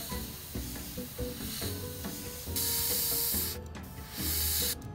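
An airbrush sprays paint in steady hissing passes over a 15mm Jagdpanther tank model, the airflow held close and continuous with short pauses and bursts between strokes.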